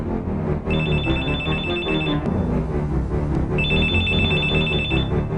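A mobile phone rings out with an electronic alert tone, two sustained ringing bursts separated by a short gap, loud and up close over a steady background bed.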